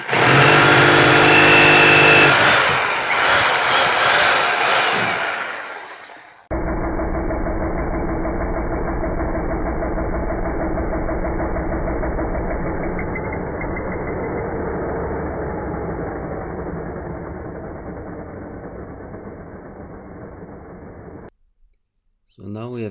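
An electric drill bores a 6 mm pilot hole into a wall, a steady loud whine and grinding held for about fifteen seconds after a burst of louder noise, then stopping abruptly.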